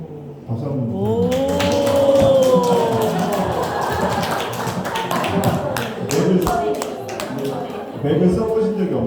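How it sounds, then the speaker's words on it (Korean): A round of clapping from a small audience, sharp hand claps running for several seconds while voices talk over them. "박수 한번"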